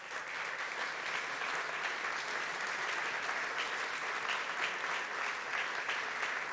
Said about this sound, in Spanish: Y con este aplauso